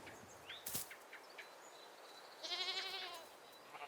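Faint, distant bleating from goats or sheep, with one wavering call standing out near the end over a quiet farmyard.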